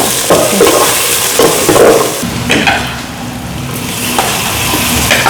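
Onion and garlic frying in a pan, a loud close sizzle with repeated scraping and stirring strokes of a utensil, no voices.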